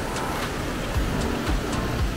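Waterfall pouring down near a warm spring flowing out of a cliff in the volcanic Nevado del Ruiz area of Colombia, a constant roaring rush of water at close range with a few soft thuds and no speech.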